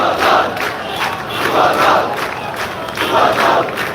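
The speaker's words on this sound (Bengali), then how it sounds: "ছাত্রদল যুবদল বিএনপি নেতাকর্মীরা তারা এখানে স্লোগানে স্লোগানে মুখরিত করছেন অত্র এলাকা" Political activists of BNP, Chhatra Dal and Jubo Dal chant slogans in unison at a street blockade in Dhaka, loud rhythmic crowd shouts rising and falling in repeated waves about every second and a half.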